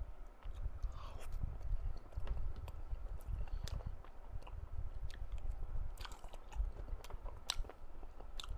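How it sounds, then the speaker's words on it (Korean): Someone eats Puradak black mayo fried chicken dipped in sauce, with close, quiet crunchy bites and soft chewing that repeat irregularly throughout, with a faint low murmur under them. "그냥 찍어 먹을게요"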